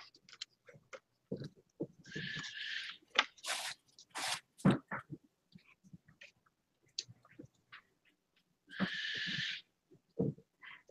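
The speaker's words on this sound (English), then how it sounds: "You can hear my bird now." A pet bird calls from another room, giving a few short bursts of bright chirping and whistling scattered among quiet gaps and light household noises, moderately near and clear, with no talking.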